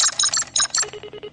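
An electronic telephone rings in quick bursts of high chirping tones, followed by a softer run of evenly spaced beeps, clear and alone.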